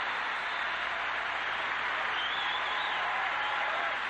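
A crowd at the 1990 U.S. Olympic Festival men's gymnastics apparatus finals applauds a routine with sustained, dense clapping and cheering at a steady level throughout.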